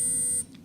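A quiz-bowl buzzer gives one sharp, loud electronic tone that holds steady for a moment and then cuts off abruptly into near silence.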